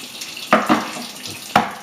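Ozonated water from an under-counter ozone tap runs into a kitchen sink, a steady hissing splash with a few sharper clunks and splashes, close and fairly loud, with no voices.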